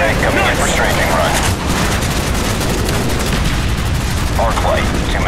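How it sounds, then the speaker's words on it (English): Aircraft strafing run gunfire in Call of Duty Black Ops, set at a 1968 South Vietnam combat base: loud, continuous, dense automatic fire and booming impacts, with voices heard under the barrage. "Roger X-ray, coming in for strafing run."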